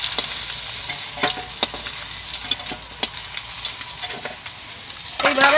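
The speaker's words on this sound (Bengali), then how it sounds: "এইভাবে সব মাছগুলো ভেজে নেব।" Whole kalibaush fish frying in hot oil make a continuous sizzle broken by sharp scrapes and clatters of a spatula stirring and turning them, closing with a louder burst of crackling; nobody talks.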